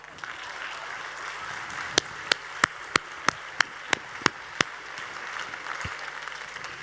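A conference audience gives a short burst of clapping, heard as about nine sharp, evenly spaced claps over a low, steady room murmur before it fades back to quiet.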